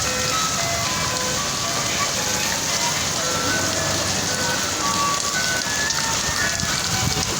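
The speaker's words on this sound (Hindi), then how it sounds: "बहुत तेज़ बारिश हो रही है" Dense, steady downpour drums continuously on surfaces, while a faint ice cream truck melody tinkles somewhere in the background.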